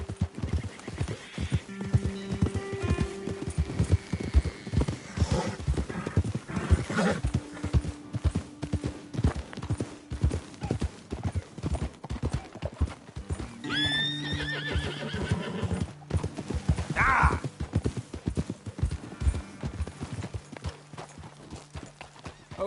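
Horses in the video game Red Dead Redemption II trot with steady clip-clopping hooves, broken by a couple of sharp neighs partway through, all fairly close and moderately loud, with no talking.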